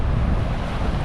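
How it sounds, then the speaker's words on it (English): Strong wind sweeps over the ocean off Peanut Island, a brief burst of steady roaring gusts buffeting the microphone with no other sound. "The wind is just kicked up too much"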